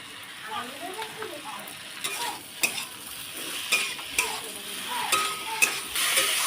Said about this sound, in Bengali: ঝিঙেটা টমেটোর সাথে ভালোভাবে কষিয়ে নিয়েছি